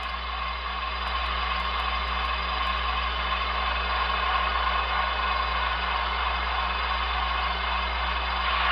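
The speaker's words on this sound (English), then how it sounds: "F5 is increase the prime mover RPMs basically." HO scale Broadway Limited Sharknose model locomotive with a Paragon 4 sound decoder drones steadily as its diesel prime mover RPMs rise, a constant close electronic engine hum with a few faint high ticks early on.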